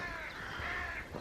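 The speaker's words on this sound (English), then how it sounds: "Crows above." Crows caw overhead in woodland near a dairy farm, a couple of harsh, nasal calls ringing out moderately close over quiet background within a second.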